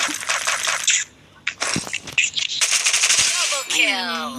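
Gunfire in the Free Fire mobile shooter game, rapid automatic bursts and clinking shell or coin-like sounds, loud and close, with a player's voice talking over it.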